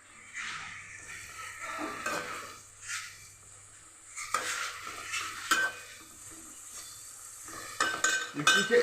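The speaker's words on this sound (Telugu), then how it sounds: "నూనె పోసేందుకు కాగిపోయింది ఉల్లిపాయ వేస్తున్నాను" Onion goes into hot oil in a pan for a Nellore-style fish stew, a moderate sizzle broken by repeated stirring scrapes and a few metallic knocks, growing busier toward the end.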